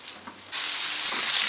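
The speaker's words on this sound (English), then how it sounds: "when the beef is cooked and it starts making these happy sizzling noises like this" Ground beef frying in a pan with leftover bacon fat: a faint stir and scrape at first, then a sudden loud, steady sizzle that holds close and bright to the end.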